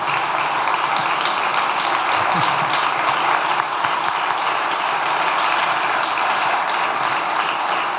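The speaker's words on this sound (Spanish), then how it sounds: "Le vamos a dar también un aplauso a nuestro amigo Antonio Esposito" A crowd applauds for Antonio Esposito during the opening proclamation of the La Orotava main festivities, a steady, loud, dense clapping that fills the whole stretch without pause or voices.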